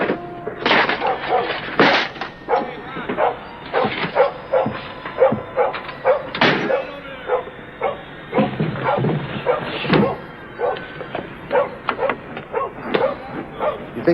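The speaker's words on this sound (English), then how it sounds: "You think that dog would recognize me by now? He does. That's why he barks." A dog barks over and over in irregular bursts, close and loud, with a few yips and whimpers between the barks.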